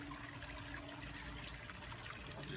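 Canned pineapple chunks with their juice pour from the can over a holiday ham in a Dutch oven, a steady wet splashing trickle heard close up with no talking.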